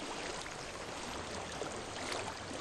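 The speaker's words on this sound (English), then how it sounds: "I hear water." Flowing water in Hellblade: Senua's Sacrifice, a continuous soft rushing stream with a faint airy hiss, steady throughout and unaccompanied by speech.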